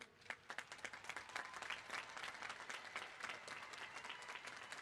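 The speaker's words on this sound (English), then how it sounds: "give yourselves a big round of applause for your hard work" An audience at a 2021 graduation ceremony applauds the graduating class, with dense, steady clapping from many hands that sounds soft and somewhat distant, filling the whole stretch without a break.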